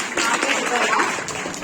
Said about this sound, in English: Are you ready to clap